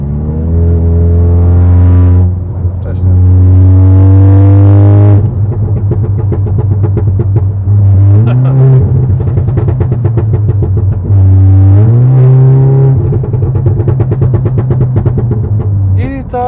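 A tuned VW Golf VII R with a cold exhaust idles with a deep, loud, droning burble, then its engine is revved in repeated rising bursts before dropping back to idle.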